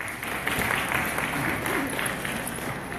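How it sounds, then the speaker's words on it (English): An audience at a psychic expo claps in a dense, continuous burst that stays steady and fairly loud for the full few seconds. "Round of applause for Rachel,"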